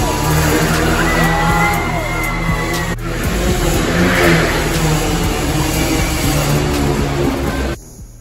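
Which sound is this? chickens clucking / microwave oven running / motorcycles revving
motorcycles revving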